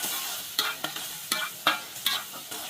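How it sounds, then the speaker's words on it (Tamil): Beef and pounded garlic for Penang-style bihun goreng, fried rice vermicelli, stirred in a hot pan: a series of sharp scraping strokes about every half second over a steady, close sizzle, with no talking. "நல்லா கிண்டி விட்டுருங்க."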